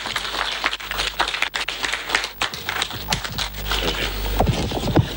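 Dense applause from a forum audience at a Ghana broadcasters' gathering after a talk, a continuous crackle of many hands clapping at moderate distance, ebbing and swelling for several seconds.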